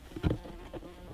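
A bee buzzes briefly in a polytunnel garden, one louder close pass followed by a fainter hum.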